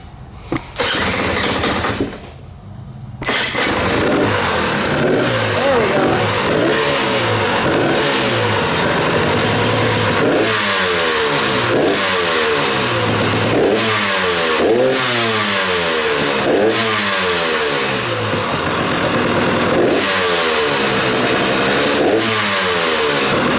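A KTM motorcycle starts on choke: a brief crank and a sputtering catch, a short dip, then the engine settles into a loud, near run and is repeatedly revved in rising and falling bursts.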